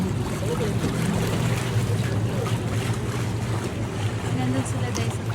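A motorboat cruises an indoor canal in Villaggio Mall in Doha, Qatar. Its steady low engine hum runs throughout with faint background murmur.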